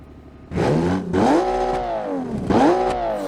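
Naturally aspirated engine of a custom Porsche 911-inspired Group B rally car in BeamNG, blipped twice in loud, throaty revs that climb and fall back to a rough idle, close up.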